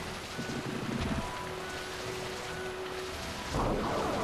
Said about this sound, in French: Là, il a l'air de pleuvoir quand même pas mal.